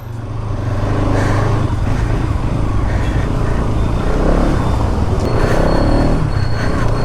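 A motorcycle engine runs steadily up close, a loud continuous low rumble with no clear revving peaks and no talk over it.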